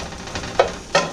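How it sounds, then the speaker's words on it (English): Onions just starting to sizzle in a hot skillet, a soft steady hiss with two brief sharper crackles or stirring scrapes standing out, close and alone with no talk. "Those onions are just starting to sizzle a little."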